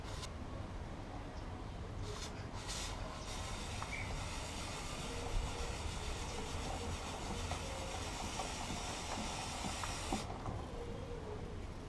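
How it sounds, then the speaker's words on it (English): WD-40 sprayed onto a motorcycle chain gives faint hissing from an aerosol can: a couple of short bursts, then a longer steady spray that cuts off near the end, quiet against a low background. "I have sprayed WD-40 on the chain."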